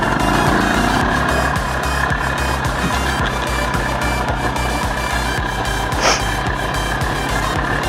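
An Izh Planeta 5 motorcycle rides off on a hilly track, its engine a steady, loud, close drone with rhythmic low thumps and road rumble running throughout.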